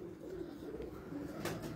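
Pigeons kept in a rooftop building loft coo softly in low, continuous murmurs, faint against a steady background hum.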